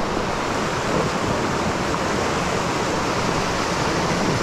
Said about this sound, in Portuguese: Cachoeirinha, mini cachoeira.